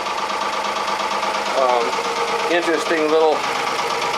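Volvo diesel engine idling aboard a Fisher 30 boat, a steady mid-pitched running hum with faint knocking under a voice.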